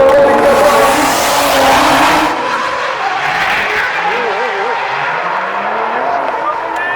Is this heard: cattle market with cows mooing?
no